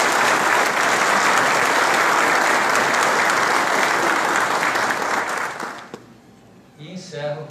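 Dense, sustained applause from an audience at the opening ceremony of an automotive engineering symposium, filling an auditorium for about six seconds before thinning to scattered claps and faint murmuring.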